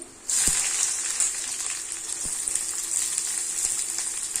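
Garlic, chili, black cumin and onion hit hot oil with a sudden loud sizzle that settles into a steady hiss, broken by a few soft clicks of a spoon in the pan.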